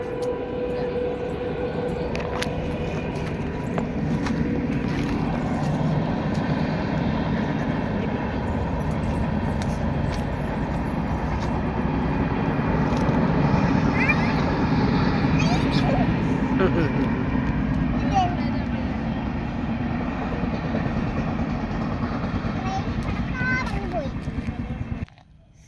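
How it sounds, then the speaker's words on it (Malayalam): A train rumbles past steadily at moderate distance during an evening walk beside overgrown mangrove scrub, its broad low roar continuous through the whole passage, while children's voices chatter over it. "ആ ട്രെയിൻ പോണതാ കിടക്കും."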